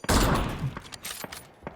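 Video game gunfire crackles in a burst of several rapid shots, then a few scattered single cracks follow, fairly close but moderately quiet, without talk.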